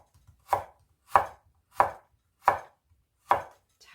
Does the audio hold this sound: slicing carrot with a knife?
yes